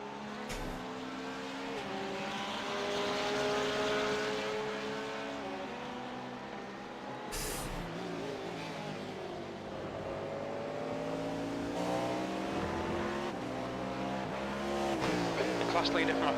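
Engines of LMP2 race cars in the iRacing sim game whine steadily, rising and falling through gear changes while cars pass one another on the Watkins Glen circuit. The engine noise runs continuously beneath ongoing commentary.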